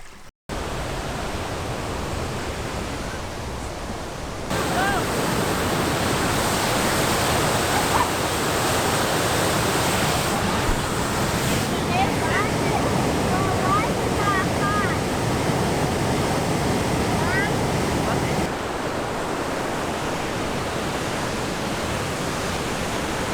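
A waterfall and babbling brook in Michigan's Upper Peninsula rush in a constant, dense broadband roar, close and steady, with faint voices briefly audible beneath the water.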